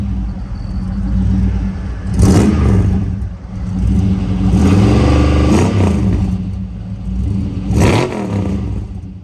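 A 1964 Chevrolet Impala V8 revs loudly three times in quick succession, each burst of gas rising sharply above a deep, steady rumble before settling back, close and with no one talking.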